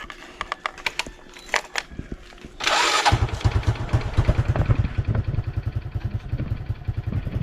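Motorcycle with a stock exhaust starting up after a few clicks, then idling in a loud, rapid, close pulse that stays steady with no talk.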